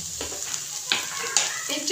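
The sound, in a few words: garlic and spices frying in oil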